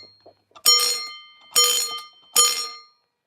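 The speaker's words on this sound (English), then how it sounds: "that's what a fire alarm bell is. It makes a dinging sound" Three separate loud metallic dings from a gong-type fire alarm bell ring out close by, each decaying over roughly half a second before the next strike.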